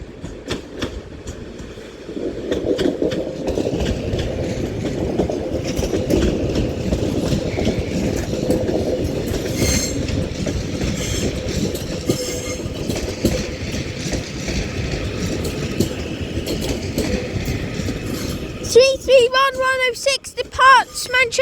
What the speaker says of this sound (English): also now departing is going to be a Northern Class 331 for Alderley Edge